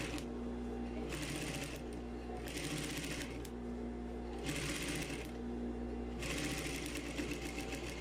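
A sewing machine running a topstitch on a tailored vest, its rapid steady whirr coming in several bursts separated by short pauses, close and clear over a low hum.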